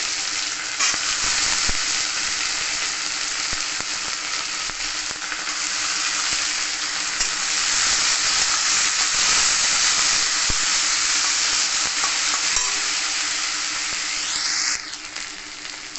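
Chopped potatoes frying and being stirred with chickpeas in a pan, giving a loud, continuous, hissing sizzle close up, with occasional faint stirring clinks and a brief dip near the end.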